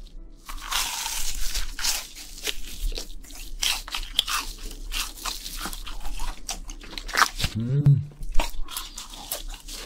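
A crunchy fried cheese ball bitten and chewed up close at a Korean fried-chicken eating session: repeated crisp crunches and crackles in uneven bursts, loud and near, with a short murmur of voice partway through.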